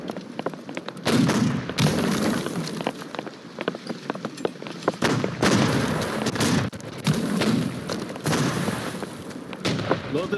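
Repeated heavy booms of ship cannon fire in a naval battle in the game Holdfast: Nations At War, several deep blasts spaced irregularly, with clattering and rumbling in between.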